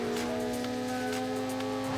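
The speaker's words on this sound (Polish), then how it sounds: "Czemu mój samochód ma taki wytłumiony dźwięk?" A steady, dull car engine hum in Need for Speed Underground drones without change, muffled and flat, with a faint whine riding on top like an engine heard through padding.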